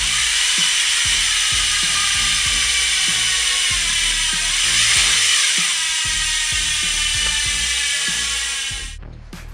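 A custom-built Elite Bicycles Skyway TA 24-inch BMX coasting, its freehub ratchet buzzing in a rapid, continuous stream of clicks, close and loud, until it stops abruptly at the end.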